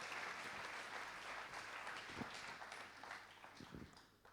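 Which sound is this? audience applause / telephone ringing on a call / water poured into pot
audience applause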